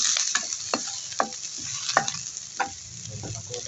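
Onion and garlic fry together in a pan, with a steady sizzle broken by several sharp scrapes and taps of a spoon stirring the pieces, close and moderately loud, no talking.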